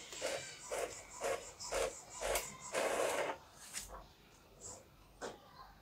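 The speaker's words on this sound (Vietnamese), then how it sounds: "lúc này máy in ra tờ giấy A4, in ra đen trắng nha các bạn" An Epson L1210 inkjet printer prints a black-and-white A4 page, giving a series of rhythmic mechanical bursts as the print head shuttles back and forth, close and fairly clear, with a longer feed whir near the middle.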